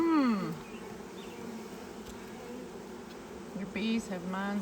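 Honey bees buzz during a swarm catch: a close, continuous drone runs throughout, with people talking over it at the start and again near the end.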